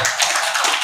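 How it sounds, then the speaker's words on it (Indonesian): A crowd applauds for Najwa Shihab at a religious lecture, a dense, continuous patter of many hands clapping close and loud for under a second. "tepuk tangan buat Najwa Shihab"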